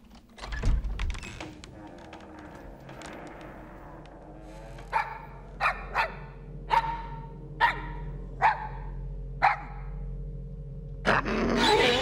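A dog barks in a series of sharp, evenly spaced single barks, about seven in a row, fairly close and clear, following some earlier clattering noise.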